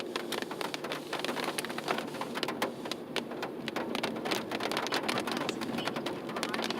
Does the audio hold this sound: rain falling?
yes